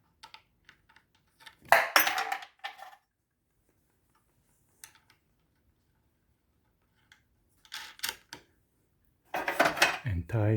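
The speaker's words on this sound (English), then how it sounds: "tie it with a wrench to the same way as it was before." Metal wrench clinking against a nut while tightening it on a Genie garage door opener carriage: a few sharp, close metallic clicks and rattles in short bursts, separated by long silent gaps.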